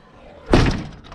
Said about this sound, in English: Let's see if we can shut the door.